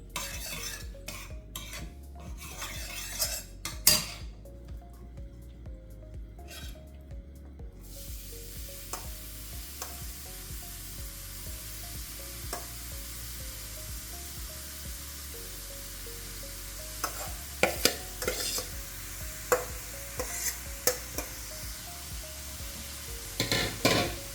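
Carrots sauté in ghee in a kadhai over low heat, with repeated spoon scrapes and clinks against the metal over a continuous soft sizzle.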